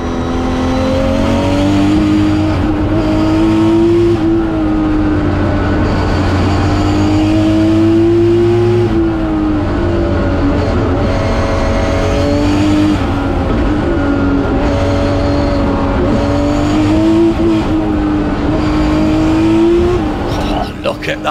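A Toyota race car accelerates at the Pikes Peak hill climb, its loud engine rising and falling through repeated gear changes with tire noise, heard close under a commentator's voice.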